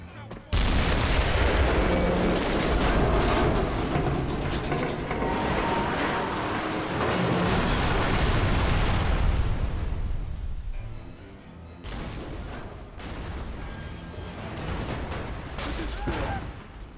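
Explosions in the video game Rogue Warrior boom one after another in a dense, loud roar, thinning out into scattered blasts and rumbles toward the end.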